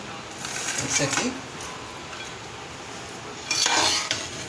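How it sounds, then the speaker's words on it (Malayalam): A spoon stirs cooked rice with coriander, mint leaves and cashews for kuzhi mandi, giving two short bursts of scraping and clinking against the pot with a quiet stretch between them, while a voice talks. "ഇപ്പം എൻ്റെ അരി വെന്തി കഴിഞ്ഞ് ഇപ്പം ഞാൻ ഇതിൽ മല്ലിയില, പുതിന ഇല, കാശുനാട്ട് എല്ലാം മിക്സാക്കി"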